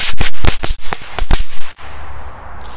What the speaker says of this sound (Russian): Вот такая петарда Corsair 4.